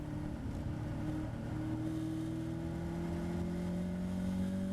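A Caterham race car on the Donington Park circuit, its engine droning steadily and loudly throughout with a rising pitch as it accelerates, close and continuous with no talk.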